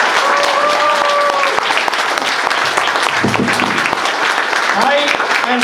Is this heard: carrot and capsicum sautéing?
no